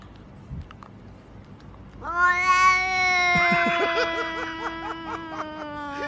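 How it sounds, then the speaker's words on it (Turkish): A cat lets out a long, drawn-out meow with a wavering, moaning pitch, loud and close, preceded by a few faint background noises. "Hurdacı diyen kedi."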